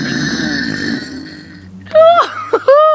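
A person produces a deep, forced belch, rising out of a drawn-out throaty rumble into a few short, loud, voiced croaks near the microphone.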